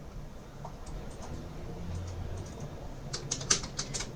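A computer keyboard is typed on while an SQL delete query is entered, with faint scattered keystrokes at first and then a quick close burst of clicks near the end over a quiet room hum.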